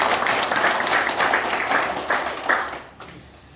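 Audience applause at a town meeting during a mayoral visit to Gayagok-myeon in Nonsan, South Korea: dense, steady clapping from a room of residents that thins out and fades near the end.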